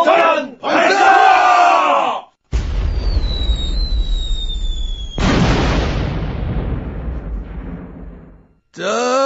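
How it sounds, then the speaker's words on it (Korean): A Korean historical radio drama sets a shouting battle crowd against a bomb-launch effect: a whistling descent, then a loud, rolling explosion that fades out before the crowd's cries return. "먼저 물가 폭탄 발사!"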